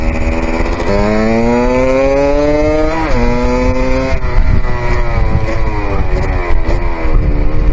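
Honda MT 125cc motorcycle with an Athena cylinder accelerating on the road, its loud close engine rising steadily in pitch through the gears with brief dips at each shift.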